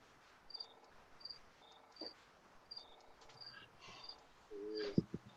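Crickets chirp in short, evenly repeated high pulses against a quiet night background, fairly faint and somewhat distant, with a brief low thump near the end.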